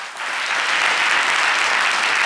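An audience applauds the Guémont regional council at a public gathering: a short, dense burst of steady clapping from many hands.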